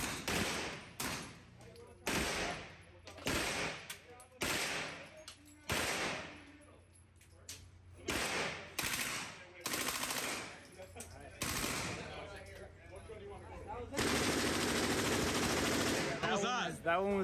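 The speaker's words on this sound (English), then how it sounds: "So enjoy these last few rounds on the PP-19," A PP-19 submachine gun is fired outdoors in repeated loud bursts of rapid automatic fire separated by short pauses. The last burst is a longer sustained string, and a voice is faintly present at times.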